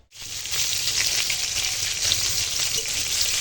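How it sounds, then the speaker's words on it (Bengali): Brinjal slices fry in a pan with a loud, steady oil sizzle that starts abruptly and holds close and even throughout, with no talking. "দেখো এখন বেগুন ভাজা চাপিয়ে দিয়েছি"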